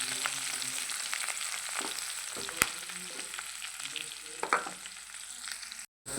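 Curry leaves and green chilies frying in hot oil, a continuous close sizzle with occasional pops and stirring scrapes, briefly cutting out just before the end.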